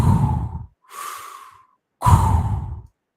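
A voice imitates an astronaut breathing through a helmet: a long, heavy exhale, a quieter inhale, then another loud exhale, all close and breathy.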